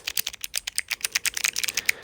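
Light-up fidget clicker keys pressed rapidly, a steady stream of crisp, close clicks for about two seconds with no talk over them.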